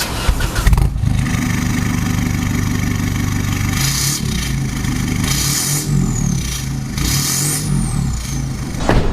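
An Isuzu D-Max 1.9 Blue Power diesel pickup engine cranks and starts, then settles into a steady low idle with a few revs, close and loud.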